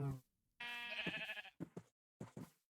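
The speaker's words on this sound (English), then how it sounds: "I've got these sheep" Minecraft sheep give one long, wavering bleat up close, followed by a few short bleat-like bursts, with a voice talking briefly at the start.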